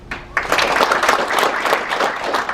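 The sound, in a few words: audience applause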